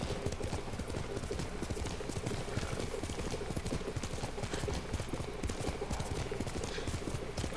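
Horse in the video game Ghost of Tsushima, hooves clip-clopping in a fast steady rhythm with a whinny, loud and close throughout, no talk over it.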